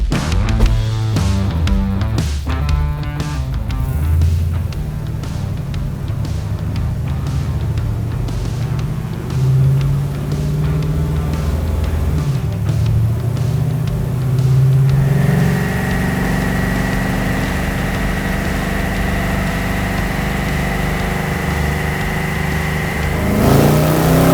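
A 1969 Camaro with an LS3 V8 and FiTech EFI fires up on a dyno, cranking into a loud, rumbling idle with blips of revving, then settling into a steadier, higher drone before a final surge.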